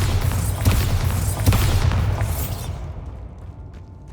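A Bombarda spell explosion in the Hogwarts Legacy video game, a loud deep booming blast with rumbling low end and crackling debris that fades away over a few seconds, with no talk.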